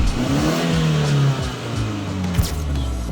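A BMW 4 Series F32 drives off under its own power after a battery pyro fuse was replaced, the engine revving up close, then dropping in pitch as it pulls away with a brief knock.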